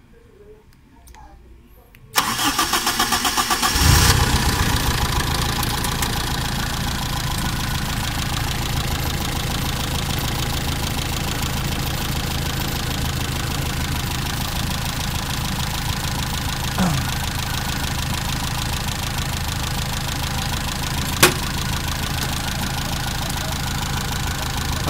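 A car engine fitted with long-tip spark plugs cranks and catches after a couple of seconds of quiet, then settles into a steady, loud idle around 780 RPM with a rough mechanical hum that continues to the end.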